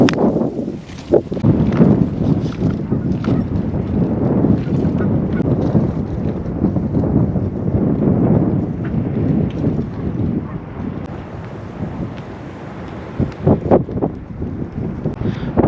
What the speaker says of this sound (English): it is a wee bit windy